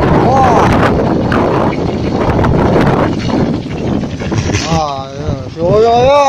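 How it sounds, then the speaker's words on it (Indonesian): Strong wind gusts roar across an open field around a kolecer wind spinner, a loud continuous rush with whistling, wavering tones near the end, while people shout and talk over it. "Wah, angin badak bawan."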